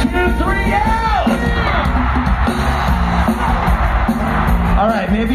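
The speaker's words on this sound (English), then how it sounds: "I want to hear you on three. 1, 2, 3, yell!" A huge festival crowd at a live concert at Download Festival 2024 yells and cheers on cue, a dense, loud roar of shouts and whoops filling the whole stretch.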